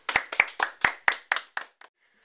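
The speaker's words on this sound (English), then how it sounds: "Everyone applaud for Ken." A class claps for a student named Ken: about eight distinct, sharp hand claps in an even rhythm, close and fairly loud, thinning out and stopping after roughly two seconds.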